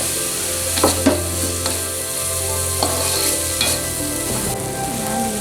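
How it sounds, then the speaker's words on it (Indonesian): Chili is sautéed with spice paste in a pan for a yellow oyster broth, giving a steady sizzle marked by occasional scraping stirs of a utensil, close and fairly loud. "Terus masukin cabai itu juga biar ditumis sebentar."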